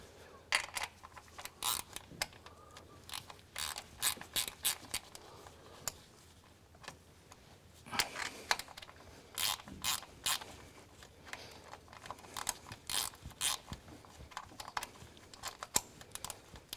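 A ratchet tightens the nut securing an engine lead tidy while valve clearances are adjusted: bursts of sharp, rapid clicks come close and clear, repeating in short runs with brief pauses between them.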